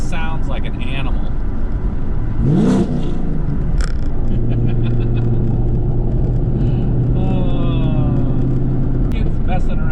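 A Camaro LT1 with a popcorn burble tune rumbles loudly while driving, its exhaust crackling and burbling under a steady engine drone, with rising revs and a voice talking over it.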